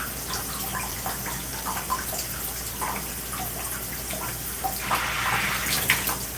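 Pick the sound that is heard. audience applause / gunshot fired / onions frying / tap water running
tap water running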